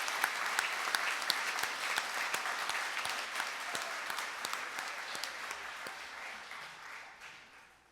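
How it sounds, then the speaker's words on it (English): Audience applause at a college convocation ceremony for 2017 graduates, a sustained, distant-sounding wash of many hands clapping with a few sharper individual claps, gradually fading toward the end. "Let's have another round of applause for these tremendous people."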